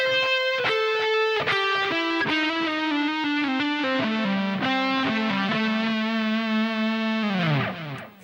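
Distorted electric guitar plays a solo phrase with a two-step string bend, sustained singing notes sliding between pitches, loud and alone, ending with a downward bend and fade.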